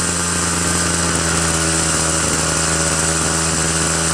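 A small two-stroke lawn equipment engine, unused for months, runs loud and steady after firing on the first pull, with a continuous buzzing drone and no talk.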